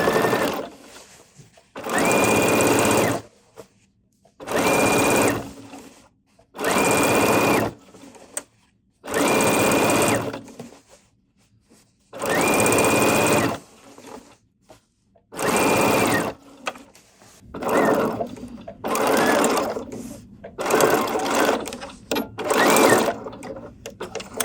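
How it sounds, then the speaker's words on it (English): A regular sewing machine stitches a jeans hem in repeated bursts of steady stitching, starting and stopping every couple of seconds, loud and close with no talking. "I'm focusing on just using a regular sewing machine for this tutorial"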